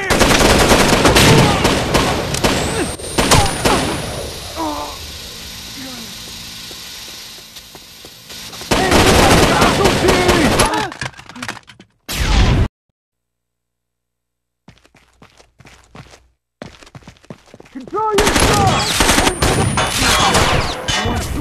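Rapid automatic gunfire in the co-op shooter Rainbow Six Vegas 2 comes in loud, sustained bursts, separated by quieter stretches and a stretch of near silence before the firing resumes.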